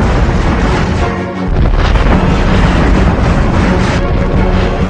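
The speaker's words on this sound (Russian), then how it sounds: "над полем боя появлялся гриб ядерного взрыва" A huge, sustained nuclear explosion in a video game roars with deep rumbling and crackling debris, loud and continuous throughout.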